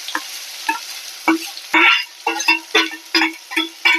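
Onion dropped into hot oil with mustard seeds and cumin for a spicy chickpea usal, giving a series of sharp close crackles and stirring scrapes in short bursts, roughly eight separate pulses with quiet gaps between.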